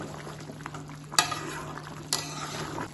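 Malai chicken fries in a pan under a steady low sizzle while it is lightly stirred, with two sharp clinks of the utensil against the pan.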